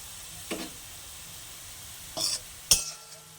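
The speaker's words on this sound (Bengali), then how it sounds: "পেঁয়াজগুলো এইভাবে বাদামি করে আমি ভেজে নিয়েছি" Onions fry until brown for an egg biryani, with a quiet steady sizzle broken by three short clinks of a utensil against the pan.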